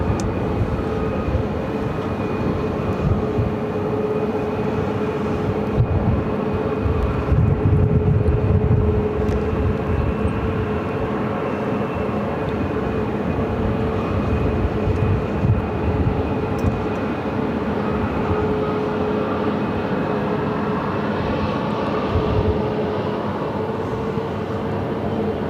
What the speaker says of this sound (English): It's an AirShare Embraer Phenom 300 coming in from Gallup.